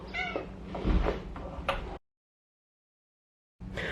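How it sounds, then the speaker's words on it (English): A cat inside a family home meows loudly and close, with a couple of drawn-out cries, then silence, then a burst of noise at the end. "you just saw the killer cat come through"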